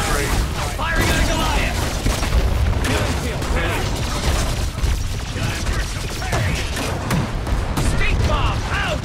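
Gunfire in the online shooter game Evolve Legacy during a monster hunt, dense continuous volleys and booming blasts layered into a loud, unbroken barrage.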